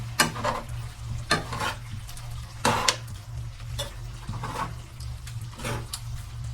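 Banana heart adobo being stirred in a pan, with repeated bursts of scraping and clinking from the utensil against the pan over a low, steady hum and faint sizzle, close and moderately loud.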